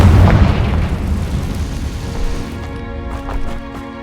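A loud Confringo blasting spell explosion in the video game Hogwarts Legacy, with a deep boom at the start and a rumbling decay that trails off beneath game score.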